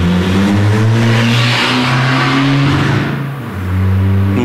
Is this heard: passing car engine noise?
yes